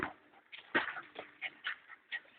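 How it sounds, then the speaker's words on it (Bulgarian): A playful dog whimpering and yipping in short, close, fairly soft bursts spaced irregularly, with quiet pauses between them. "Кучето се разграе."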